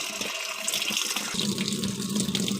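Water pouring steadily into a washing machine drum along with detergent powder, a continuous close splashing rush with a bubbling, filling tone.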